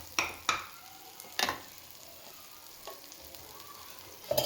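Prawn ghee roast masala fries in plenty of ghee in a pan, a soft steady sizzle broken by a few sharp stirring scrapes and clicks, close and fairly quiet.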